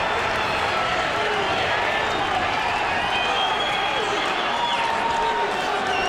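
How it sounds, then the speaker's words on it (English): A UFC crowd roars continuously through a fight, a dense, loud wall of cheering with scattered shouts and voices over it. "Listen to this crowd."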